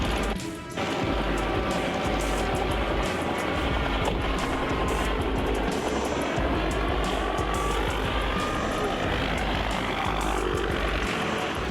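A loud, continuous helicopter engine and rotor roar that is heavy and unbroken throughout, with a deep low throb under a broad whine.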